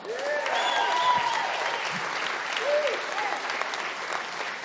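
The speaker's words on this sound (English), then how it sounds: "How about giving a round of applause to Another Level?" Audience applause at a live show, a dense steady wash of clapping filling the clip, with a few whoops and an excited voice rising over it.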